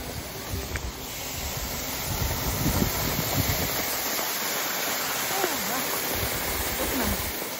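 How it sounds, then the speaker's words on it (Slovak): Waterfall in the countryside around Santo Domingo, Ecuador, roaring as a steady rushing wash of water that fills the whole stretch at constant loudness, with hints of a faint voice partway through. "takto tu môžeme vidieť takýto pekný vodopád"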